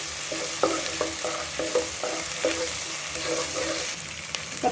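Onions fry with ginger garlic paste for a vegetable salna, a constant close sizzle broken by a regular series of spoon scrapes against the pan.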